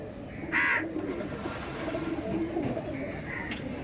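A pair of Punjabi Malbai pigeons with yellow eyes, a male and a female, give low cooing against a noisy backdrop, with one sharp, loud bird call near the start and a fainter call near the end.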